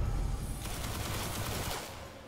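Turret gunfire in the video game Destiny, a dense burst of rapid shots under a low rumble that fades out after about two seconds, loud and close with no talk.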